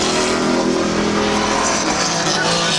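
A race car roars down the backstretch into turn three at Midvale Speedway, a loud, close, continuous engine drone with a strained rising pitch as it passes.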